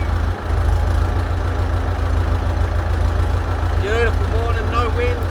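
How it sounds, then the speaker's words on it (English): A 60-year-old Fordson tractor idles while warming up in the early morning, a steady low rumbling engine drone throughout, with a few brief high chirps rising over it near the end. "Got the old tractor warming up, so she's a bit noisy."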